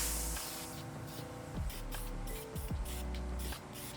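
A spray can of gray self-etching primer hisses in short bursts onto bare car metal, with several separate sprays and brief pauses between them, close and fairly loud, on an Acura TSX project car.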